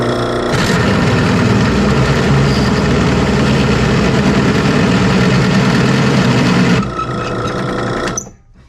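A drill press with a 3/4 inch bit bores into metal, its belt slipping, giving a loud, steady machine drone with a low hum that runs for about six seconds, then drops off and spins down.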